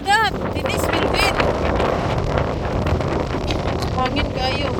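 Strong wind buffets the microphone on an outdoor walk, a steady roaring rumble throughout, with voices shouting and calling over it.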